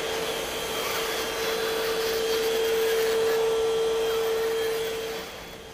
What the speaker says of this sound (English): This remote control vacuum cleaner is more than just a gadget.